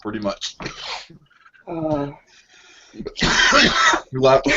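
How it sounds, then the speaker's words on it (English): Harsh throat clearing and several rough coughs break up short bursts of speech, close to the listener. "You made me laugh so hard I got into a coughing fit."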